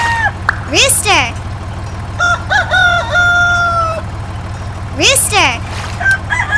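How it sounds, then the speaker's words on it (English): A farm rooster crows loudly and close, a rising then drawn-out call repeated twice, with a steady low engine drone underneath and other bird calls in the background. "Rooster."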